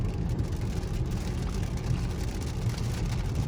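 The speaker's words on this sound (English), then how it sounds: "we're still having a little bit of rain left" Light rain on a Tesla running FSD V14.3.4, heard from inside the cabin while driving at about 55: a steady hiss of rain and tyre noise over a low road rumble, constant and close.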